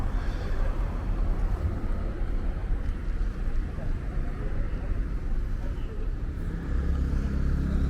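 Road traffic in the city centre of Thimphu, Bhutan, a continuous rumble of passing vehicles with wind noise, and someone talking throughout.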